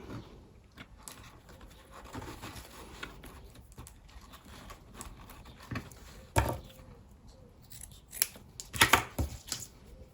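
Scissors snip through a strip of ribbon being trimmed to size for a decoupage cardboard letter, a few sharp cuts standing out near the end amid quiet handling sounds.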